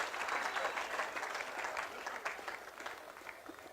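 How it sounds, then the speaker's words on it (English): An audience claps at an opening ceremony, a brief burst of crowd applause with scattered individual claps that tapers slightly, heard from some distance at moderate volume. "So let's clap it up for everyone here."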